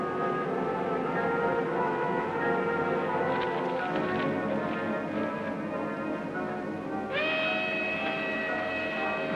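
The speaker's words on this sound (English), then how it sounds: "That's a westbound train." A westbound train rumbles past steadily, with a layered harmonic drone that shifts to a higher, brighter tone near the end, in a 1957 western TV show.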